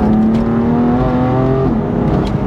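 BMW M4 Clubsport with its exhaust flaps open in sports throttle mode, revving: a loud, steady engine drone climbs slightly in pitch, then eases back, with no talking.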